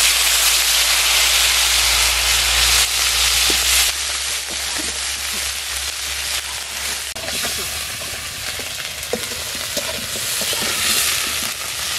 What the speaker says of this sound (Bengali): মাছ ভাজার তেলে ফুলকপিটা দিয়ে দিলাম।